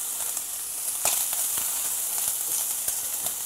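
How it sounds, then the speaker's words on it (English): Chopped onion sizzles in a hot pan during a home brewing session, a steady bright crackle and hiss with scattered sharp pops, close and fairly quiet, with no talking. "And we'll just add a little bit of onion here."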